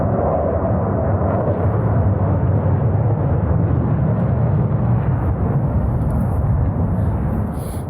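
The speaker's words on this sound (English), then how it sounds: "there's an air show going on apparently" Distant aircraft roar at an air show, a continuous low rumble holding steady throughout and easing slightly at the very end, with no talk.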